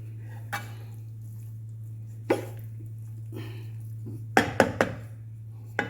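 A spoon stirs mutton hariyali biryani in a pot, with sparse scrapes and a quick cluster of metallic clinks near the end over a steady low hum in a quiet kitchen.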